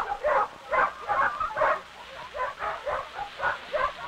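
Sled dogs hauling a sled in an outport Newfoundland setting give a run of repeated barks and yelps, rhythmic and moderately close over a hissy, old-film background.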